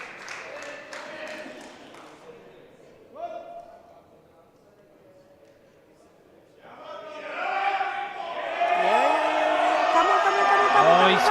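A powerlifting audience at the European Open University Cup in classic powerlifting in Luxembourg is fairly quiet at first, then swells into loud, sustained cheering and shouting for a Swedish lifter competing in the men's 83 kg class.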